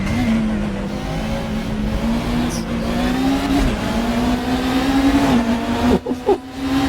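Renault Laguna race car in a sim racing game, its engine droning loudly at sustained high revs with slight pitch shifts, then a brief lift and rev change near the end.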